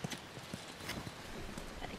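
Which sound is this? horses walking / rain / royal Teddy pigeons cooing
horses walking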